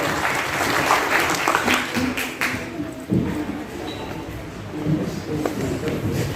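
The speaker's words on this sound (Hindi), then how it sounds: "जोरदार तालियां बजा दीजिए" Audience at a Maharashtra social-service award ceremony applauds loudly and steadily, a dense wash of clapping that runs the whole time with a brief dip midway, while a voice speaks over it.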